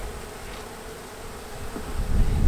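Bees from a package of new bees buzz in a steady, diffuse drone that swells louder toward the end, with no one speaking.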